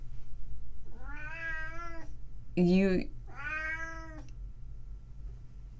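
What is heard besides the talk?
cat meowing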